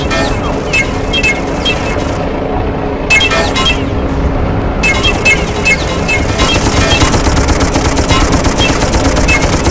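Loud, continuous battlefield gunfire in the video game Darkest of Days: rapid machine-gun bursts and overlapping shots with heavy booms from bombs, dense and sustained throughout.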